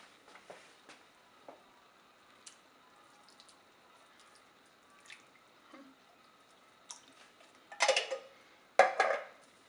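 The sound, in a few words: ingredients tossed into a paella pot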